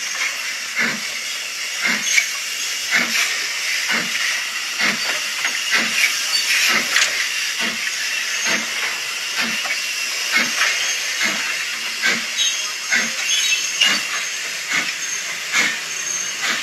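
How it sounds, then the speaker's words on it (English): An upgraded Hornby Austerity model steam locomotive runs on an exhibition layout's industrial line with sound fitted, giving a continuous steam hiss with evenly spaced chuffs about once a second throughout, fairly loud and with no talk. "the loco here is running onto an industrial line where it will stop, reverse, before running down into some industrial sidings"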